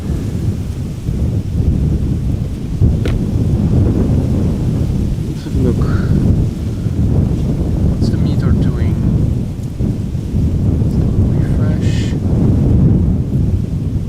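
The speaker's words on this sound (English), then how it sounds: "Wind is definitely picking up." Strong wind buffets the microphone outdoors at Amsterdam Schiphol Airport on a sunny day, a loud, continuous low rumble with gusty swells and no pauses.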